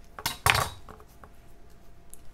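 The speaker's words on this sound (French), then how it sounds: "Donc pour commencer, on va couper notre ail en deux." A kitchen knife slices a garlic clove in half on a board, giving a couple of sharp, close taps and a short scrape, then a few faint clicks in an otherwise quiet room.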